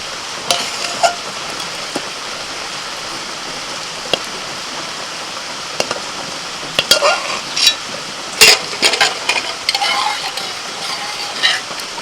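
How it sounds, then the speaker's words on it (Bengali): Semolina is stirred into a thick dough in a pan. A low, steady background runs under scattered scraping and clacking stir strokes that thicken into a busier cluster after the midpoint. "এইভাবে নাড়াচাড়া করতে করতে যখন এরকম একটা ডো তৈরি হয়ে যাবে তখন সুজিটাকে নামিয়ে নিতে হবে"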